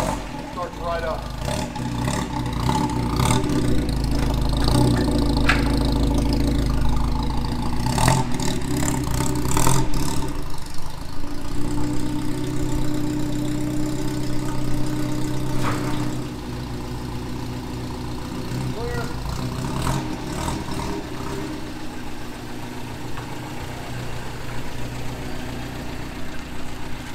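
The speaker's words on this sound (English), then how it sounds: "We're going to do a cold start on the 53MG." A 1953 MG TD car idles after a cold start with a little choke, a steady, close engine rumble that eases slightly partway through, with someone talking over it.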